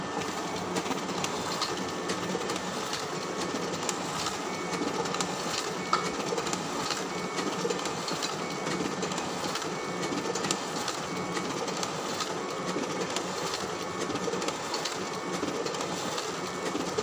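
An office photocopier printing another run of three copies gives a steady, close mechanical whir with a faint rhythmic clatter of paper feeding, continuous and without speech.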